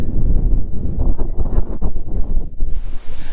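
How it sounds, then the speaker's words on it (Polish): Strong mountain wind on Kasprowy Wierch in the Tatras buffets the microphone in loud, gusty low roars that swell and drop continuously, with no voices. "Wieje, strasznie wieje"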